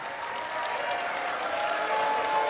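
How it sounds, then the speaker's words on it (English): Debate audience applause during a New Jersey lieutenant governor debate, a dense, sustained wash of clapping from a large crowd, steady and unbroken for the whole few seconds. "Please hold your applause"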